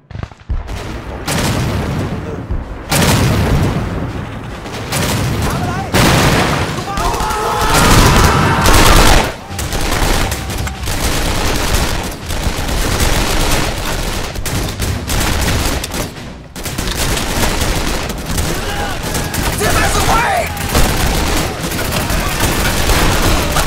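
Sustained battle din from the Vietnamese war game 7554: an artillery signal salvo followed by dense, continuous gunfire, loud and close throughout with heavy booms and rattling volleys.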